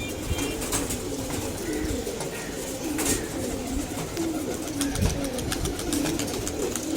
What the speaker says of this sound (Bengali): বিকেল টাইম তো আসলে রাজানের পর কবুতরগুলা ছাড়ছি